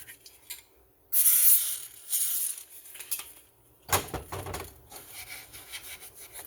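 Close rubbing and scrubbing on a McCulloch 36cc chainsaw's gunked-up starter part being cleaned and polished with gel lube, with a short hiss-like burst followed by quieter scraping and friction strokes, no talking.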